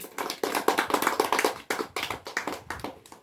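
Students in an outdoor science class clap for two classmates, bursts of close, uneven handclaps from a small group coming in quick waves, with no talking.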